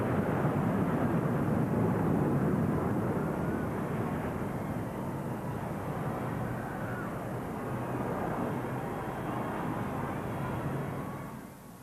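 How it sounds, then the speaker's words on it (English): Two Typhoon and two Tornado military jets blast overhead in box formation above a royal wedding crowd in Windsor, a loud, sustained roaring rumble that slowly fades at the end. "two state-of-the-art typhoons and two tornadoes, blasting overhead in box formation"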